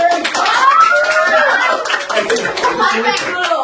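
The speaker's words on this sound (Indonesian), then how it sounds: "Tepuk tangan buat Lucky" Students at SMAN 23 Bandung high school clap for their classmate Lucky, a steady patter of hands close by, mixed with voices and whoops over the claps throughout.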